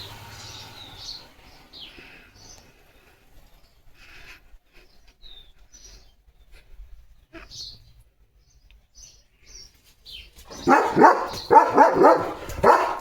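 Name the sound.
German Shepherd dog barking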